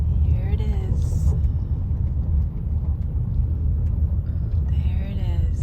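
Inside a car driving along a road to a horse farm, a steady low interior rumble from the engine and tires fills the cabin, with people talking briefly at the start and end.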